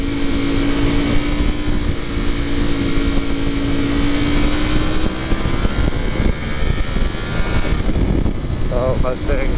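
A Ducati V4 SP motorcycle engine drones steadily and loudly throughout a test ride, its pitch slowly rising and shifting, with heavy wind rush over the microphone.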